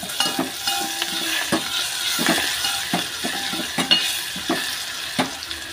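Tomatoes hit a hot tempering of crackled mustard seeds, garlic, green chilli and curry leaves in a pan, giving a loud steady sizzle broken by regular scraping stir strokes, with no voices.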